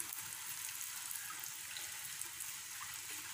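Sugar athirasam frying in hot oil, a steady dense hiss and crackle of bubbling oil that holds at the same level throughout, with no voices.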